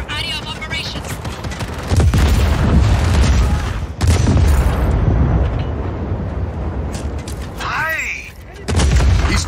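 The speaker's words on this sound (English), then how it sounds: "The explosion, the gunfire, it's unnerving." Booming explosions and rapid gunfire rage continuously around an armored train in the Just Cause 4 video game, loud and dense, with heavy low rumbles and sweeping whines overhead.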